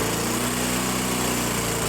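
A gasoline lawn mower engine runs steadily at close range with a loud, continuous droning hum and no pauses, stopping abruptly at the very end.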